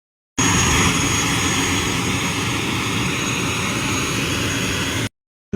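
Small passenger airplane engine heard from inside the cabin as a loud, steady, continuous drone with a faint high whine, holding constant for about five seconds before cutting off.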